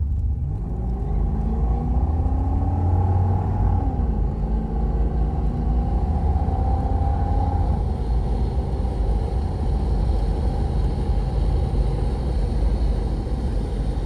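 A 1982 Chevrolet Camaro Z28 with an original V8 driving down the road, a loud continuous engine rumble with rising and falling tones as it accelerates and shifts, close and steady with no talking.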